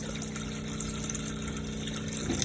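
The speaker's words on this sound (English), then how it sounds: "Wait for the pump to kick in, and just make sure that you've not got loads of air in the system." A water pump runs in a Roller Team 700 motorhome, giving a steady, continuous hum with a faint rush of water flowing through the pipes and no talk.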